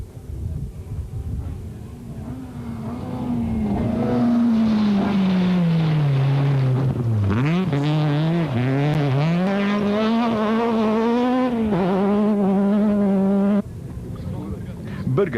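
A rally car, part of a Toyota dealer rally event, driving flat out on a stage: a loud engine climbs and falls through gear changes with brief tire scrabble, building close by before cutting off suddenly near the end.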